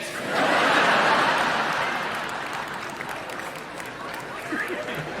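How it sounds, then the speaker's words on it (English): Applause from a live show audience, a broad wash of clapping that swells early then tapers into a steadier, softer patter with a few scattered chuckles. "Did you notice that applause started from the back?"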